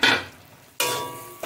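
Spices and chopped tomato fry in a pan for a chicken curry: a bright close sizzle that fades, then surges again as fresh ingredients hit the oil, with a brief stirring clatter at the end.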